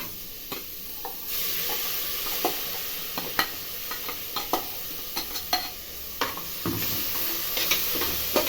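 Ground masala frying in a pan for goat trotter paya soup, a dense continuous sizzle with many quick spatula scrapes and taps scattered throughout, close and fairly loud, no voices.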